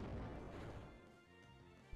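Rock Slide attack from the Pokemon Omega Ruby video game: a dense, rumbling, crashing barrage of tumbling impacts that fills about two seconds, fairly faint and without speech.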